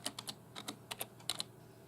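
A short burst of light, quick keystrokes on a computer keyboard, about a dozen soft clicks in uneven clusters, close and quiet with no voices.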